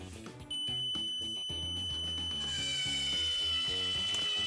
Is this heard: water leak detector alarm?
yes